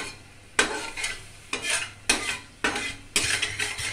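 Caramel cooks in a pan right after water has been added, giving a bubbling sizzle broken by repeated stirring scrapes, about six rhythmic bursts in four seconds, close and fairly loud with no talking.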